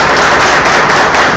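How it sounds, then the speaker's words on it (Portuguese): Audience at an event on aging giving a round of applause, loud continuous clapping that fills the whole short stretch with no talk over it. "Uma salva de palmas."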